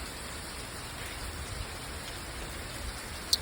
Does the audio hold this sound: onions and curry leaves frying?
no